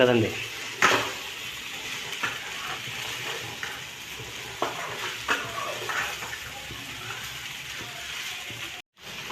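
Sabudana khichdi softly sizzles and bubbles in a pan on a low gas flame with occasional scraping stirs, steady and close, with some faint background noise.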